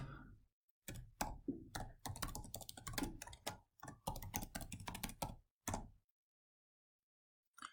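Bursts of rapid key presses on a computer keyboard while entering login credentials, clustered in several runs of clicking with short pauses between, close and clear, ending in silence.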